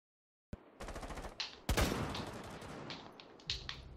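Rainbow Six Siege gunfire through a wall opens abruptly after a moment of silence, a rapid burst of shots followed by a loud crack and scattered impacts, close and dense, with no voices.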